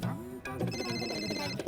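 A call waiting telephone ring sounds as a short, loud electronic tone that sits over a background of murmuring voices.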